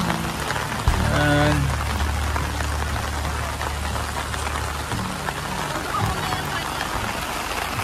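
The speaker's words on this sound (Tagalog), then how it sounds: "malakas na rin yung ulan" Heavy rain pours steadily over a campsite in a dense, hissing wash, with a low engine-like hum underneath and a brief spoken word near the start.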